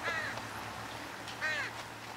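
A bird in GTA 5 gives two harsh crow-like caws about a second apart, moderately close, over a low steady game hum.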